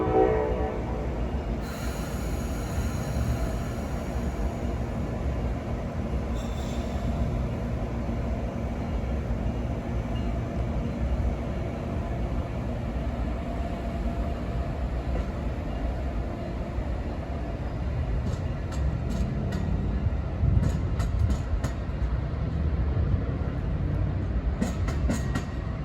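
A Vermonter train pulls out of New Haven station with a few hiccups, its steady heavy rumble rolling continuously and close, with sharper metallic clicks and rattles building toward the end.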